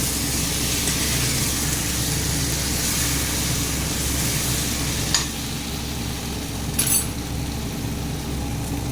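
Close, steady sizzle of spices with cumin and Kashmiri chilli powder frying in a pan, with a brief scrape at about five seconds and another near seven.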